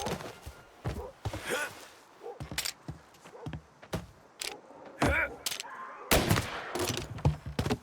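Gunfire in the video game Mafia: Definitive Edition cracks out in several sharp, loud bursts and single shots spread irregularly across the scene, with brief quieter gaps between them.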